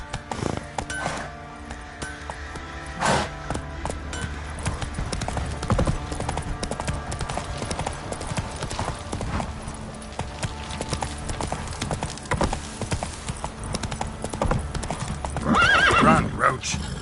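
A horse gallops in Witcher 3 on PS5, its rapid hoofbeats pounding steadily throughout, with a loud neigh near the end; a voice speaks over the action.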